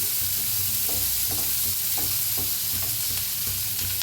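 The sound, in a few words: roasting and stirring in a pan for Mysore dosa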